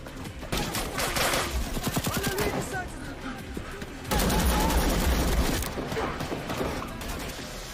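Dense gunfire in a sniper action film set against Taliban fighters, a continuous clattering barrage of shots with a louder, heavier stretch midway, no voices over it.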